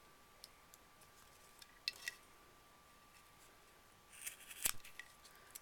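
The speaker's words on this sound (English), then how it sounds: "So now I'm going to cut it about a thumb length" Scissors snip paracord, giving a few faint, sharp clicks and then a louder cluster of cuts, close up in a quiet room.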